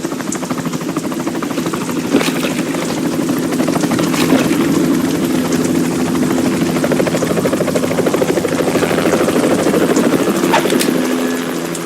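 A helicopter in the video game Metal Gear Solid 2 drones steadily and loudly throughout, its rotor beating in a constant throb with engine whine layered on top.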